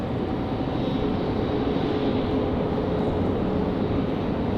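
Republic Airways Embraer E175LR arriving at Raleigh-Durham from Chicago O'Hare, a steady broadband jet roar holding level throughout on a windy day, with no voices.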